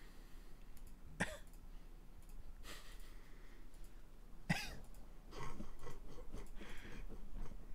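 A person coughs in two sharp, isolated bursts a few seconds apart, close to the microphone, with softer rustling noises in between and no speech.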